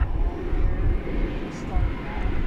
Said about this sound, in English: Turkish flight 191 is on a roll.